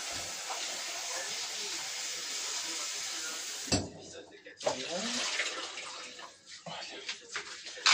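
Food ingredients being washed under running water, a steady tap stream at first, then splashing, rinsing and handling sounds after it breaks off.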